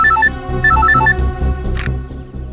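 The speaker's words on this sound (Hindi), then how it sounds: "फोन आ गया।" A phone rings in a CID crime drama scene, a repeating electronic ringtone melody in short bursts over a loud background music score.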